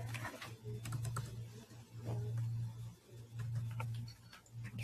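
Someone typing code on a computer keyboard, with quick irregular clicks in short bursts over a steady low hum.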